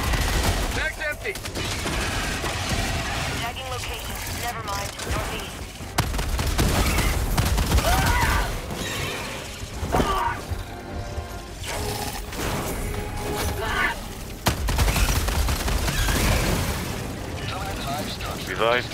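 Rapid gunfire and explosive blasts from the Helldivers 2 co-op shooter, loud dense bursts of automatic fire and booms layered continuously with game sound effects throughout.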